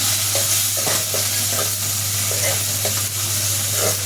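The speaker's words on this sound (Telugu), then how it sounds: "నూనెలో వెంటనే పప్పు వేసుకోవాలి. పప్పు కొంచెం నూనెలో చూడాలి." Moong dal frying in hot oil with turmeric, a loud dense sizzle with steady crackling and repeated stirring scrapes, close and uninterrupted.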